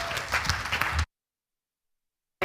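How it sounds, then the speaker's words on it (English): A dense burst of crowd applause from a conference audience at the Cannes Lions festival, greeting a speaker, cuts off abruptly after about a second into silence. "Please give her a massive round of applause"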